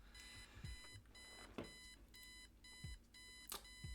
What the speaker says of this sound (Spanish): vamos a ir a interactuar con la alarma para apagarla